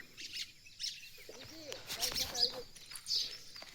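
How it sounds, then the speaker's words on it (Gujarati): Sparrows chirp in a quiet village farmyard, scattered short tweets and small chirping bursts at moderate distance over a soft background, with faint human sound mixed in. "કેમ મસ્ત ચગલા બોલે એવા બધા વાટે છે"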